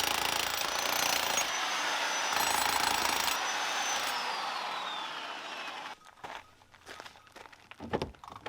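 Large stones in the wall of a 100-year-old barn being broken up: a loud, continuous mechanical hammering roar for about six seconds, then stopping, followed by scattered knocks and scrapes of rubble.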